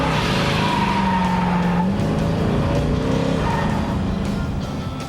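A 1967 Shelby Mustang GT500 with a detuned racing engine, loud and close, its roar rising and falling in pitch with sustained tonal whines, easing slightly toward the end.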